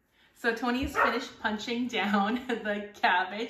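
A small dog barks and whimpers somewhere outside, faint and intermittent beneath steady nearby talking in a kitchen where cabbage is being prepared for sauerkraut.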